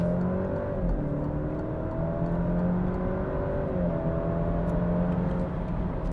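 A 2021 Alfa Romeo Giulia 2.0 with 280 hp accelerates hard on kickdown from 50 to 120 in Dynamic mode. Its engine note climbs steadily and loudly from inside the car, with a gear change along the way and no talk.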